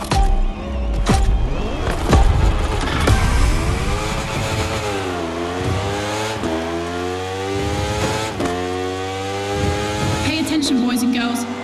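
A racing motorcycle engine revs and accelerates hard, its rising and falling pitch sweeping loudly and continuously as the bike runs a time attack, with a few sharp gear-change breaks along the way.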